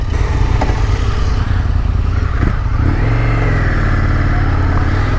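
A 2019 Indian FTR1200 flat-tracker motorcycle with a 1200cc V-twin engine revs loudly and close by, its deep rumble rising and swelling steadily with no talking.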